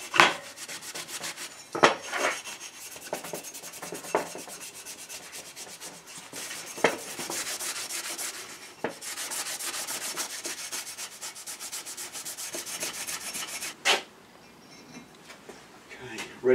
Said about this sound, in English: I'm going to get the old paint out and the scuffage